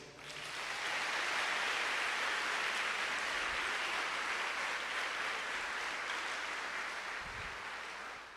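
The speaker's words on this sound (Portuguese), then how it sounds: "Pode aplaudir." A church congregation applauds in a steady, dense wash of clapping that holds for several seconds, broad and rain-like, heard from a distance at low level before easing slightly at the end.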